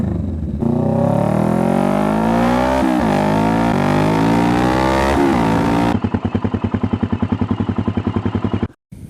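A Kawasaki Vulcan S motorcycle fitted with a Two Brothers Racing exhaust and a Power Commander V revs loudly up close in rising throttle blips. It then settles into a rapid, choppy popping idle before cutting off abruptly.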